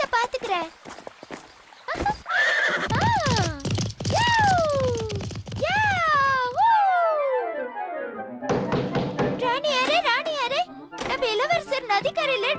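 An animated horse in a Tamil children's cartoon whinnies loudly in repeated wavering neighs with clopping hooves, close and bright, mixed with cartoon voices and effects.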